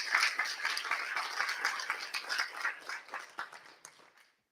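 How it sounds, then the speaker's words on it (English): Audience applause at a FOSSASIA Summit 2023 open-tech conference lecture theatre, dense rapid clapping from many hands that holds steady and then thins and fades out near the end. "I would say also big round of applause"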